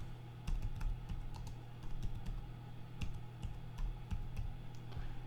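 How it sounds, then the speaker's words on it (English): Fingers type on a computer keyboard during a Photoshop lesson, making a quiet, close run of quick key clicks in irregular bursts over a low background hum. "And I'm going to type in Island Paradise."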